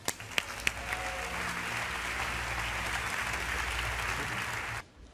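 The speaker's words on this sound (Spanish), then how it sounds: "¡Un aplauso!" A steady wash of dense audience applause fills a music awards gala hall, opening with a few sharp claps and holding loud and even for several seconds before cutting off abruptly.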